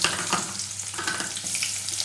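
Onions and mustard seeds frying in hot oil for a Tamil-style green brinjal poriyal, giving a steady, close crackling sizzle that runs unbroken without any voices.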